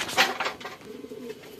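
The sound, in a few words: pigeon cooing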